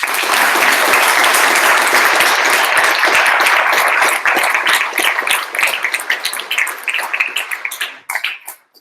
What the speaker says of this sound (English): we get to the round of applause